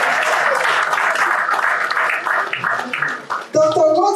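An audience at a panel on Nigerian labour force statistics applauds a World Bank senior economist. The full, close clapping fades out near the end as a voice begins speaking.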